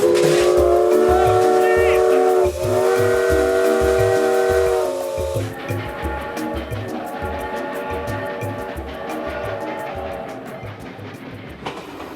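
A steam locomotive blows a loud, sustained whistle with harmonic tones over a rhythmic chuffing pulse, followed by continuous steam hissing and rapid mechanical clatter up close.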